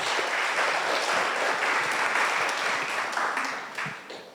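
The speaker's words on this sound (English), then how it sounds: "A round of applause for her." Audience applause greets a Chief Finance Officer of East African Breweries as she is introduced, a dense continuous clapping that carries for about four seconds and then thins out toward the close.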